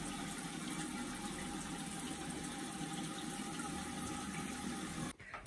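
Water runs steadily from a tap while someone washes their face, a continuous even hiss that cuts off abruptly near the end.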